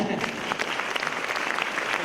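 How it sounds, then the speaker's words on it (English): Steady applause from an audience, a dense continuous patter of clapping hands filling the space at close range. "A big round of applause for them"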